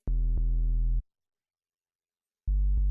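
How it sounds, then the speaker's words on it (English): A buzzy, harmonically rich synth tone with gritty tube distortion drive sounds for about a second, cuts to silence, then returns near the end. "we have our drive now. And I think we'll stick with the tube distortion"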